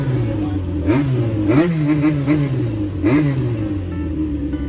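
A Honda CBX motorcycle engine revs up and settles back repeatedly, with rising and falling surges over a steady idle rumble, heard up close and fairly loud.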